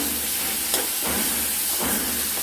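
Spice paste sautéing in a pan with splashes of water, a loud continuous steamy hiss and sizzle with a few brief bursts as it is worked.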